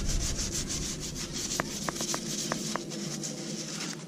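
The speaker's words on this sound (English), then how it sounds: "Scotch-Brite scuffs up that penetrine pretty easily" Scotch-Brite pad scrubbing a coating off the chassis of a Toyota Prado 120, steady rhythmic rubbing strokes with a few short sharp scrape ticks, close and fairly quiet.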